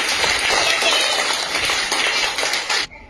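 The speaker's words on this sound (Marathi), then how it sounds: "शाबास, टाळ्या वाजवा." A group of people clap their hands together in a dense, steady burst of applause, close and loud, lasting almost three seconds and then stopping abruptly; no one speaks over it.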